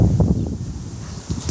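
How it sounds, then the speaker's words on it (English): Wind gusts buffeting the microphone outdoors in a yard with neighbours' sprinklers running, a steady low rumble swelling and dipping, stronger near the end, with no talk. "it's really windy out here"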